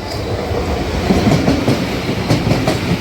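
A train passes close by with a steady rumble and a rhythmic clickety-clack of wheels over rail joints, loud and continuous, with no voices.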